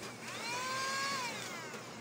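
2-in-1 vacuum cleaner switched to blower mode, a steady whirring motor whine that rises and holds evenly, fairly close and alone with no talk.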